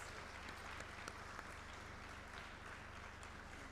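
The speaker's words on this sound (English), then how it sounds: "Ladies and gentlemen, a huge round of applause, please." An audience at a FICCI Ladies Organization event applauds steadily, dense clapping that stays even and fairly faint throughout with no voices.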